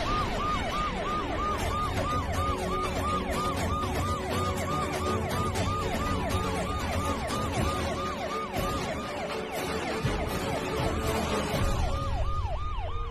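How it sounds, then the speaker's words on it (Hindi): A wailing siren sweeps up and down continuously and loudly over traffic rumble, with no talking. "सायरन की आवाज आ रही है, पुलिस किसने बुलाई?"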